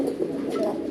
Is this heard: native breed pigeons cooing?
yes